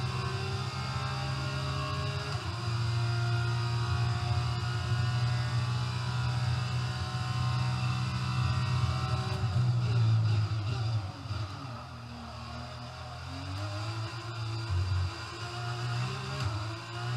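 A Formula 1 race car engine in the video game F1 22 drones steadily at high revs, then shifts and drops in pitch partway through, moderately loud and without talk.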